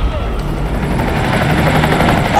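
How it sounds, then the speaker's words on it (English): Helicopter in the Resident Evil 3 game, a steady loud rotor thrum and engine roar filling the whole stretch without a break, with a voice talking over it. "Hey, helicopter."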